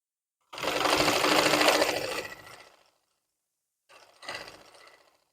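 A sewing machine stitches close alongside the elastic on palazzo trousers, running loudly and steadily for about two seconds, pausing, then giving a second shorter burst.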